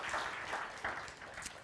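A church congregation claps in praise, a steady wash of many hands heard from some distance, fairly soft and continuous over a short stretch.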